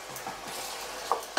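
Fish whites simmering in olive oil for a Provençal bourride, a steady soft bubbling hiss close by with a couple of small sharp clicks, no voices.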